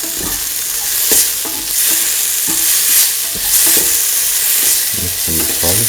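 Salt is stirred into a frying chickpea and potato mixture, with a loud, constant sizzle and rhythmic scraping stirs repeating roughly every second, close up and without talk.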